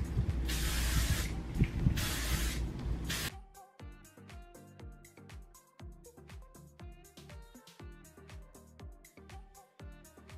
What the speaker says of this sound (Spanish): Pero sí debo ponerme como que bastante spray.